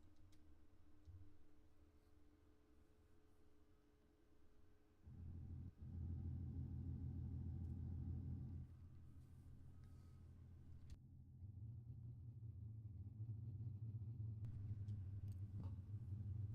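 Dirt mini stock race cars warming up at I-55 Raceway, engines rumbling at a distance and then swelling as cars pass closer, with a steady droning roar and shifting engine pitch.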